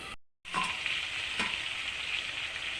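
Meat being stir-fried (kosha) in a pan, a steady close sizzle after a brief silent gap, with a couple of light stirring scrapes.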